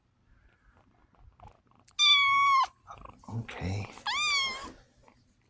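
A cat gives two clear, drawn-out meows close to the microphone, each lasting under a second, separated by a short burst of human speech in an otherwise quiet room.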